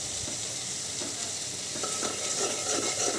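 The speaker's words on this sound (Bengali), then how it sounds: "মশলাটাকে ভালো করে কষাবো" Spices of chili, turmeric and coriander stir-fried in oil in a pan, a steady close sizzle with soft scraping of the spoon moving through the mixture, no voices.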